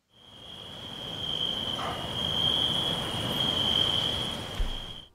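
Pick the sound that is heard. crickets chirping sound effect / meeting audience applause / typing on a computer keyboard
crickets chirping sound effect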